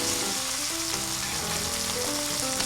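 A partly cooked steak sizzles flat on a teppanyaki griddle in a Benihana-style surf and turf. The hiss is loud and continuous at close range with a faint tonal hum underneath, and there is no talk.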